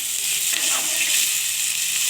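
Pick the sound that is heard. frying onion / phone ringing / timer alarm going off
frying onion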